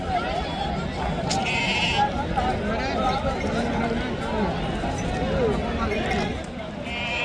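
Sheep bleat over busy market chatter at the Sunday sheep and goat market in Ranebennur, Karnataka, with many voices talking at once close by.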